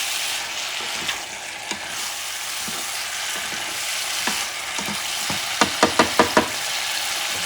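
Fish sizzles steadily in a hot pan before going into a tomato sauce stew, with light scrapes of stirring and a quick run of knocks near the end, close and without talk.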